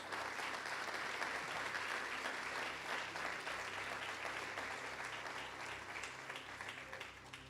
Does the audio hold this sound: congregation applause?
yes